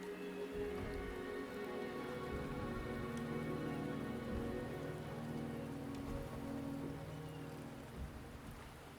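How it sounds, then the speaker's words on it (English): Steady rain falls in the video game Wuthering Waves, a dense, continuous patter of drops on surfaces that holds evenly throughout with no voices over it. "The rain is subsiding, and the sky will soon clear."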